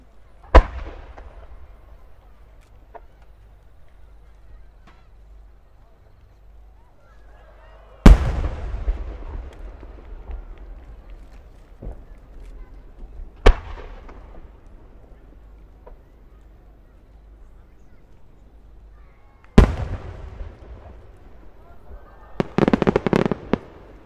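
Several booming firework bursts ring out separately at the 2023 Omagari fireworks festival, each with a crackling tail, followed by a quick flurry of rapid crackles at the end.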